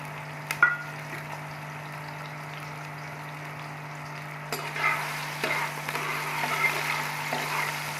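A medium-sized onion drops into hot oil for a vegetable pulao, a faint sizzle swelling into a steady frying hiss after a quiet start, with a couple of soft knocks and a constant low hum underneath.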